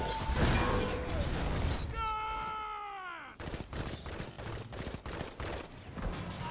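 Destiny 2's Blade Barrage super going off: a dense clatter of impacts, then a rising whooshing, ringing sweep that cuts to near silence before a rapid string of sharp bursts and crackling hits follows.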